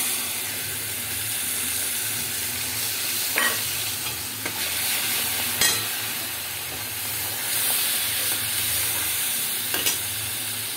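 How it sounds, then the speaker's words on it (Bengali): Mustard and green chili paste stirring into a sizzling pan of hilsa curry with potato and eggplant, a steady loud frying hiss throughout with a few soft spoon scrapes, close up and without talk. "এবার এই যে সর্ষে বা কাঁচা লঙ্কা বাটাটা দিয়ে দেবো"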